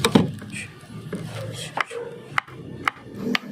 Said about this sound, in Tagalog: Maghihiwa tayo ngayon ng sibuyas. Bawang at sibuyas.